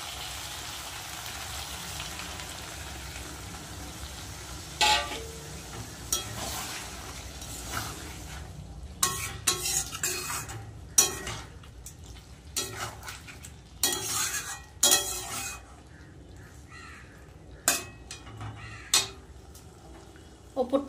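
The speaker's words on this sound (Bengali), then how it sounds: "এবার একটু জল দিয়ে দেবো" Water is poured into okra posto frying in a pan, giving a steady hiss and sizzle with sharp scraping and clinking of a spoon stirring against the pan, the strokes coming more often in the second half.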